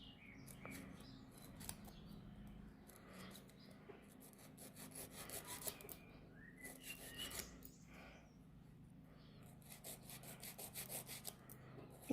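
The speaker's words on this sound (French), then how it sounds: "je tire bien sur ma peau et je lime droit" A nail file rasps back and forth across a fingernail as it is shaped into an almond form, quiet rhythmic scratching strokes close up with no talking.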